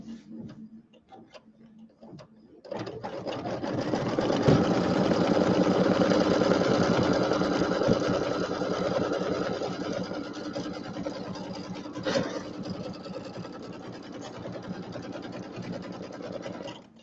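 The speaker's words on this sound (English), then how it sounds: "So we're just going to sew the backing down." Home sewing machine running steadily as it stitches quilt backing down around the outside edge, a close, continuous whirring hum with a fast rhythmic tick that starts after a brief quiet moment.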